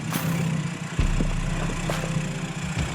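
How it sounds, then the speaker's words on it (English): A Land Rover Discovery 4x4 crawls down an off-road track in low crawler gears with no throttle, its engine braking as a steady low drone with a brief deeper rumble partway through. "You'll see there, no throttle, just hear the engine braking."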